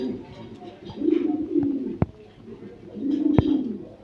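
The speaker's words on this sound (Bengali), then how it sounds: "অরিজিনাল ব্রিডের প্রিন্স কামাগার কবুতর" An original-breed Prince Kamagar pigeon gives two close, rolling coos about two seconds apart, with a couple of sharp clicks between them.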